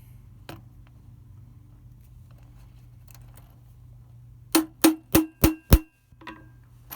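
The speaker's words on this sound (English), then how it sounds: "Little hammer." A small hammer taps button snaps into a Biltwell Gringo helmet: five quick, sharp, close taps in a rapid row after a few seconds of near quiet.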